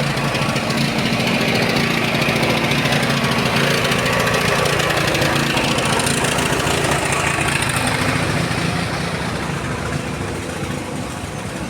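A steady, continuous motorcycle engine drone runs throughout, loud and close, with a rough low rumble and no speech.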